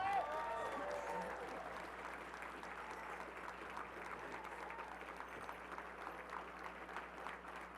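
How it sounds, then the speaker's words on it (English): Audience applause at a Madison gives community event, a sustained even patter of clapping from a crowd, moderately distant and steady throughout. "how about a round of applause?"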